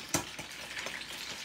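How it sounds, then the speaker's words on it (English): Chicken deep frying in hot oil, a faint, steady crackling sizzle with a few sharper pops, heard briefly and quietly. "Don't mess with the chicken while it's frying."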